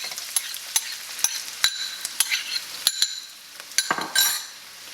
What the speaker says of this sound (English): I'm gonna add my onions